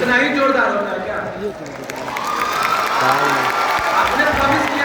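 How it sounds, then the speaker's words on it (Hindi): Students in a classroom clap hard and steadily, a thick continuous roar of hands with some cheering and voices mixed in throughout. "तो जोर से बजाओ तालियां, इनको लगे कि हाँ इन्होंने कुछ अचीव किया है।"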